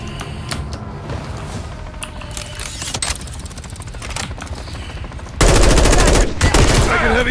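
Dense rapid gunfire in the video game Call of Duty Modern Warfare III, a steady crackling barrage of shots that swells into a much louder, heavier burst near the end, with voices occasionally calling out over it.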